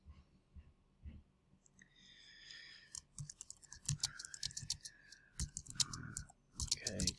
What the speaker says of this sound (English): And now you're going to type in your comment.